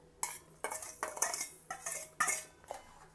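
A spoon stirs sugar and cardamom powder into boiling milk in a metal pot, giving several sharp clinks and scrapes against the vessel in an irregular rhythm, close and moderately loud, with no talk.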